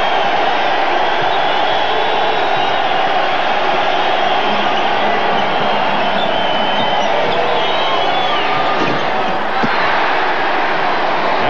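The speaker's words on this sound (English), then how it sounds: "You can hear that crowd right now." A loud basketball arena crowd roars without pause at a 1996 NCAA Tournament second-round game between Drexel and Syracuse, a sustained wall of cheering and shouting.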